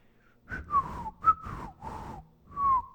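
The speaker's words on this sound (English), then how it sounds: "I was just whistling to imitate, to exemplify" A person whistles a short, breathy tune up close, several airy notes with gentle pitch slides and a noisy hiss underneath.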